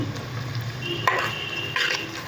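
Salted onions are sautéed in a pan toward golden brown for Kashmiri goshtaba. Soft spatula scrapes sweep through a low, steady sizzle, close by and without speech.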